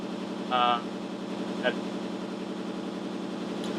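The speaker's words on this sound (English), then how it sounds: "we have a washing machine in play" A washing machine runs with a steady, droning hum and a rhythmic churning pulse throughout, close and fairly loud, broken by two brief higher clicks.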